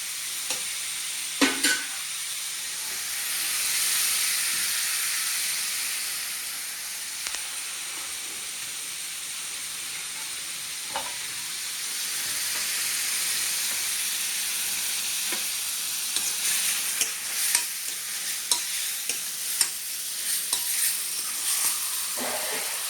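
Oil frying in a pan while cooking fish curry, a continuous close hiss and sizzle with occasional spatula scrapes and clicks scattered through the long stretch, no talking.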